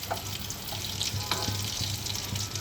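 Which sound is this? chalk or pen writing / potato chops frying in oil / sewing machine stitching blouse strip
potato chops frying in oil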